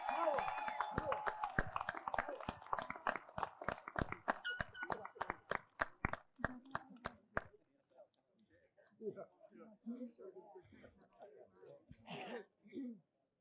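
Audience applause for Mr. Turner at a high school graduation ceremony: a burst of clapping that thins into scattered claps and fades after several seconds, followed by murmuring voices and talk.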